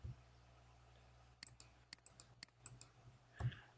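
A computer mouse is clicked repeatedly while drawing on a computer, several sharp, quiet clicks in an uneven cluster over a low steady background hum.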